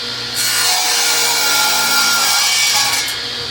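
A saw cuts through a board for a patriotic wooden bottle opener, a steady, close, rasping pass lasting about three seconds with no voices.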